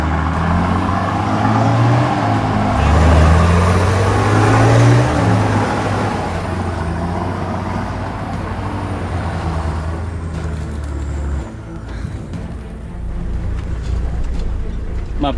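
A 4WD vehicle climbs a steep switchback track at Lake Cumberland, Tasmania, its engine droning loud and close with shifting revs and rumbling, rattling terrain noise throughout, dipping briefly near the end.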